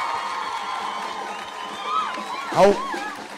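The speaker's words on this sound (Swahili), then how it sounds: "Nataka tupigie mjumbe wenu makofi, Captain Karauri." A crowd of students cheering and applauding at the opening of a day secondary school, a loose wash of voices with a sharp shout rising near the end.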